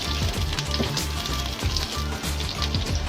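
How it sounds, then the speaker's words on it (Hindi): Chopped onion sizzles steadily in hot cooking oil in a kadhai, a continuous crackling hiss that stays loud and even throughout, with no talking. "प्याज को फ्राई करेंगे।"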